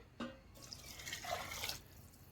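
Water splashes into a pot of dal khichdi for a short moment, a close, soft pour that fades after a couple of seconds.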